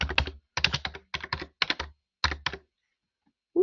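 Quick clusters of keystrokes rattle on a computer keyboard, close and fairly loud, in short uneven bursts with gaps, ending in silence and a single later tap.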